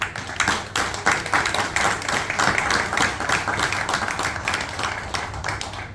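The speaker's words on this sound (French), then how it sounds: "inviter l'assistance ici présente de les applaudir fortement" Wedding guests at a civil marriage ceremony applauding the couple, a dense steady round of clapping from a crowd lasting several seconds.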